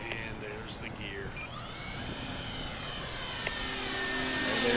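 An E-flite P-51 Mustang 1.2 RC airplane with external tanks heads straight toward the listener, its engine whine steady with shifting pitch and growing louder toward the end, with voices talking over it.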